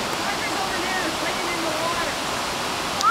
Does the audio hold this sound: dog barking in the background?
no